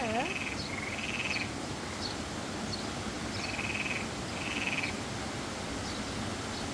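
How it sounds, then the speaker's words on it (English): Bullfrogs call at Algar Waterfalls, a handful of short, throaty croaks spaced irregularly over a steady rush of falling water. "Here are the bullfrogs."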